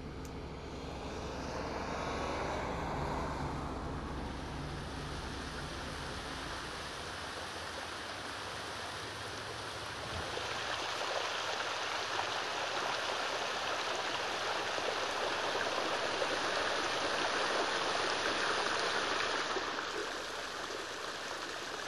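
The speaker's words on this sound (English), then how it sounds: "Hot water is gently running downhill, forming those terraces." Hot spring water running gently downhill over mineral terraces, a steady broadband rushing wash that holds through the whole stretch and swells slightly louder midway, with no voices.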